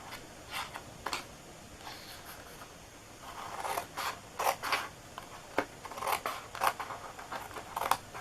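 Scissors snip through a cardboard box flap in a run of short crisp cuts, sparse at first and then quicker, close and fairly quiet against a soft room background.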